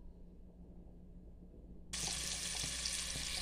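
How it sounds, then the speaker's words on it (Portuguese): Smoked sausage frying in a pan: a quiet room hum, then a sudden loud, steady hissing sizzle that continues to the end. "Ai, gente, tô fritando a linguiça, ó."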